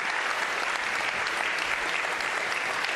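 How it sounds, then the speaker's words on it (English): Continuous, loud applause from a large audience for a panel on AI products fills the whole stretch, steady and even with no speech over it. "please put your hands together for a great panel"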